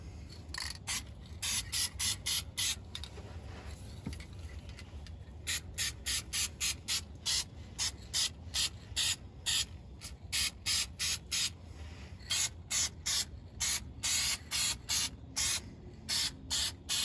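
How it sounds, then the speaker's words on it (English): Short bursts of aerosol spray paint hiss in quick, rhythmic repetition, fairly close, with brief pauses between groups of sprays, painting a slack adjuster on a GMC cab-over truck. "So I'm gonna spray it on anyway."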